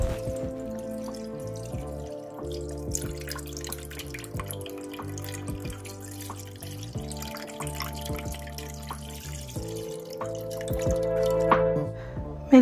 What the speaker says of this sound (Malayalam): കടായി അടുപ്പിൽ വെച്ച് 1 ലിറ്റർ മിൽക്ക് ഒഴിച്ചു കൊടുക്കുകയാണ്